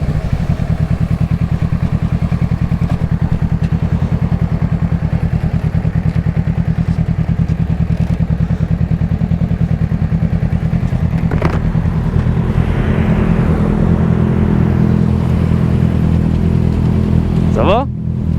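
A 2014 Kawasaki ER6-N motorcycle engine idles with a steady low throbbing, then the throttle is blipped into a brief rising rev near the end, heard up close with a voice talking over it.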